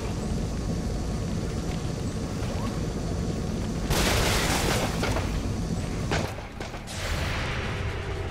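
An explosion in the strategy game XCOM 2, modded Legend difficulty lone-soldier campaign: steady game ambience broken midway by a loud broadband blast with a noisy tail, then a second, shorter burst near the end.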